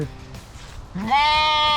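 A sheep on a farm gives a loud, close bleat that swells and holds near the end, after a softer, shorter bleat at the start and a brief quiet gap.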